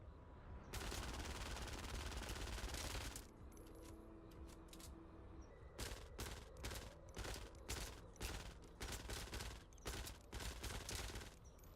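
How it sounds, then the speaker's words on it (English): QuickShot gun rapid-firing in the Fortnite video game, loud bursts of repeated shots, first one long continuous burst and then a run of shorter volleys, close and without talking. "when you're rapid firing the gun"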